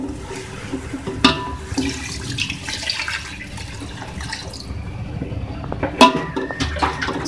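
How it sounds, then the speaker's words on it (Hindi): Three glasses of water are poured into a pot of beef and potatoes for aloo gosht taheri, a gushing splash and steady run of liquid with a couple of sharper spills, no talking. "इसके बाद मैं इसमें ऐड करूंगी 3 गिलास पानी ताकि जो हमारा गोश्त है ये गल जाए।"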